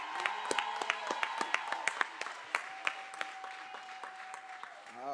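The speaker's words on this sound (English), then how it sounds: "big round of applause for our graduates" A commencement crowd applauds its graduates with distinct, sharp claps that start brisk and thin out toward the end, while a sustained tone hums underneath.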